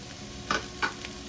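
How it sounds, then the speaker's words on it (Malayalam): Spring onion and capsicum tossed in a pan for creamy chicken pasta, with two distinct scraping stir strokes over a faint sizzle, close and fairly quiet, no talking. "ഇതെല്ലാം കൂടി ഇട്ട് നന്നായിട്ടൊന്ന് ഇളക്കി കൊടുക്കുക"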